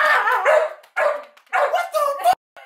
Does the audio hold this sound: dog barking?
yes